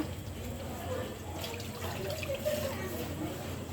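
Water pours steadily into a curry pot of sautéed bean seeds, a continuous, moderately loud gush lasting the whole stretch.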